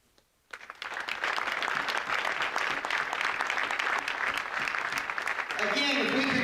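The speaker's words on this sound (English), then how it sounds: "if we could give one big round of applause for our inductees tonight, Howard Davis, Rocky Wells, and David Hammon" A crowd at a high school boys' varsity basketball game applauds Hall of Fame inductees, the clapping surging in after a brief quiet and holding loud and dense, with an announcer's voice over the end.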